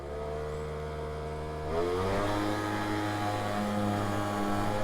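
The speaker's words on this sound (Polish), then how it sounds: "Dajemy mu lekko gaz, słuchajcie jak się wkręca." A Gilera DNA 50 scooter idles with a steady hum, then the throttle is opened and the engine pitch climbs and holds at a higher, busier whine, heard close up with no talking.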